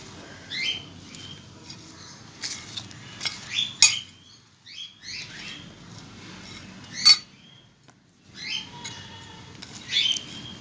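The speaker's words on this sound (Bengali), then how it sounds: "খুব ভালো করে এগুলো আমি একদম মাখিয়ে নেব।" Raw vegetables hand-mixed with beet salt and spices, giving soft wet squelches and light clinks of a bowl in scattered bursts, fairly close and quiet, with no talking.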